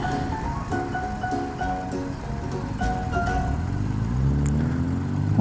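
A Jeep passes on a foggy road, its engine noise swelling steadily louder as it approaches and closes in, with faint rhythmic tones in the background.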